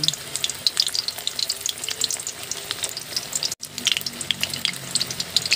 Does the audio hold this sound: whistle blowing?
no